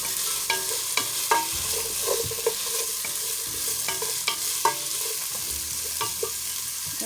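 A spoon stirs chopped celery into cabbage soup sautéing in a pot, with scraping knocks and clatters at an uneven rhythm over a constant soft sizzle, close and clear.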